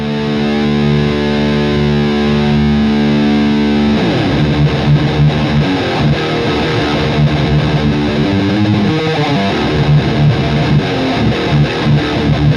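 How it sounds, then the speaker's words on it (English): An EVH 5150 III Stealth amplifier with the gain cranked all the way up and no pedals, overdrive or noise gate, blaring loud, thick, heavily distorted guitar: a sustained chord for about four seconds, then a dense run of chugging riffs. "This is what the gain sounds like cranked all the way up. No overdrive, no noise gate,"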